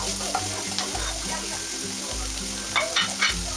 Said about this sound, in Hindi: मैं इसमें जो वेजिस है जैसे कि अनियन, टोमेटो और ग्रीन चिली, इसे डालकर मैं थोड़ा देर के लिए इसे फ्राई करूँगी